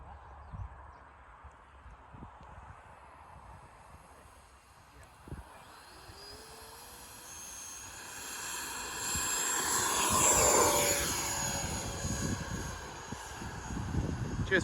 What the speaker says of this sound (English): Just making sure the runway was all clear before that F-16 took off.